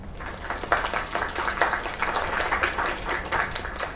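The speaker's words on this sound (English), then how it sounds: "Another round of applause." Steady applause from an audience, many hands clapping in a dense, continuous patter that holds at an even level.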